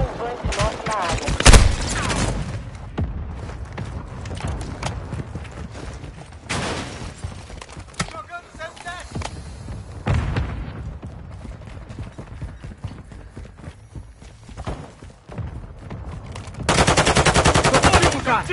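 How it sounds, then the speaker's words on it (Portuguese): Enemy mortar strike and gunfire in a Call of Duty MW2 multiplayer match: rapid machine-gun bursts and loud booming impacts recur throughout, with excited players talking over the battle. "Ataque de morteiro inimigo a caminho!"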